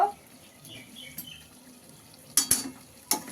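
A metal lid clanks off a pot of meat braising on low flame with spices, giving two quick knocks close together and a third a moment later against a quiet kitchen background.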